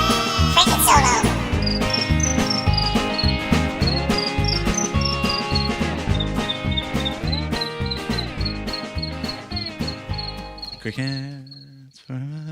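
A song built around chirping crickets, with a steady rhythmic beat and repeated high chirp-like tones running throughout, no talking, ending with a few sparse sharp clicks.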